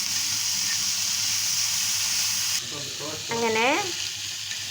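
Tomato masala sizzles steadily while a spatula stirs it through the pan, then the frying softens and a voice briefly speaks over a few quick clinks and scrapes.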